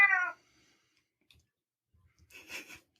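A house cat gives a short, clear meow, then after a quiet pause makes a softer, breathy caterwaul-like call, close by with no talking.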